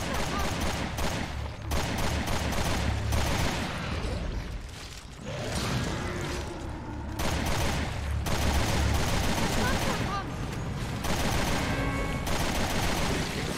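Gunfire and mechanical clatter fill a fight in Resident Evil: Revelations 2, with steady bursts of shots and clanking at close range, while someone talks in German over much of it.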